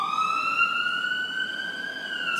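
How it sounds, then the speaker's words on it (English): A loud emergency siren wails steadily nearby, one sustained rising and falling tone with no voices over it. "Sorry for the siren."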